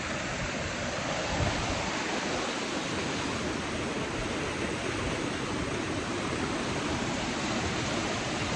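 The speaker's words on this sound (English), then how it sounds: "We had water washing our debris down" Heavy river flow washing debris downstream makes a loud, steady, full-bodied rushing roar that never lets up, with no voices.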